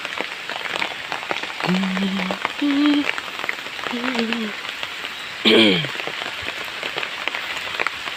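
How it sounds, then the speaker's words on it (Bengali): Steady rain falls on a village scene, a constant hiss of drops under a few short spoken phrases and a brief exclamation. "বৃষ্টি বৃষ্টি বৃষ্টি"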